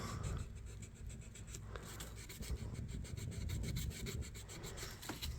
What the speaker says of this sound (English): it's not the most fun to try to sand. Kind of tedious